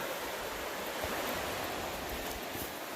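A river rushes steadily at Banning State Park along the Quarry loop trail, a dense, continuous broadband wash of flowing water, close and fairly loud, with no voices.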